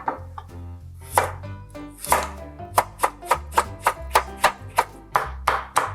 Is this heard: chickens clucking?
no